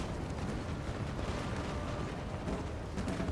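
Cannon fire rumbles through a Napoleon: Total War battle in a continuous, dense barrage of overlapping booms and crackle at moderate loudness, with no voices.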